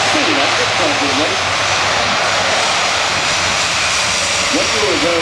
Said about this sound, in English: Reversing down the runway.